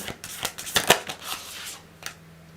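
Tarot cards are shuffled close by in quick papery riffles and flutters, with a few louder snaps in the middle and no talking.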